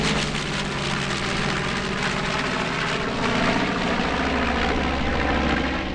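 A restored warbird propeller aircraft, kept airworthy by Goshawk Unlimited, flies a display at an airshow, its engine a steady, loud, continuous drone throughout, with no talking.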